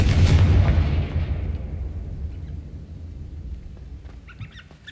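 A loud blast from the Confringo fire spell in the video game Hogwarts Legacy, bursting at once and then rumbling away over several seconds, with faint chirps near the end.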